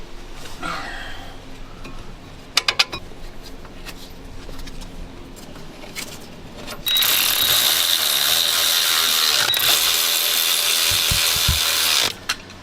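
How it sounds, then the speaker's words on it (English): A few sharp clicks, then a steady, loud mechanical whirring run of about five seconds, as a ratchet tightens brake parts on a 2002 Ford Explorer. "Tighten them down to the proper torque spec"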